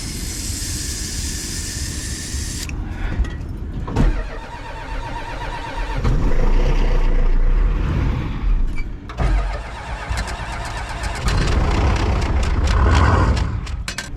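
A 7.3 Powerstroke diesel truck cold-starting in snow at around minus 20: a cranking burst, then the engine catches and clatters loudly at idle, rising in a couple of revving surges, with no talk.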